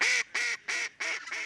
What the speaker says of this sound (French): Elle, c'est une femelle colvert.